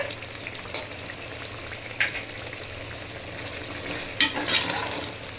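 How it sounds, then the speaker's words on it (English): Mutton biryani masala with mint leaves sauteing in a pot after red chili powder goes in, a low steady sizzle broken by a few sharp spoon clinks against the pan. "After 5 minutes of sauteing, we can now add red chili powder"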